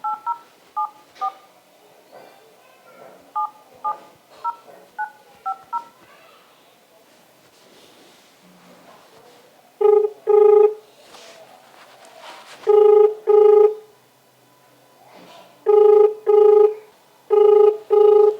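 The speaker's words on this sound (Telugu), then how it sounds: "ఇంకో బిల్డింగ్ కోసం కాల్ చేస్తున్నా" A phone number is keyed in with a run of dialing tones for a call to a GHMC office, then a ringback tone sounds in repeated double pulses with pauses, loud and close.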